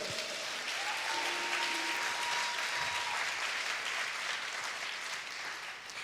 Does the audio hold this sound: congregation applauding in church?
yes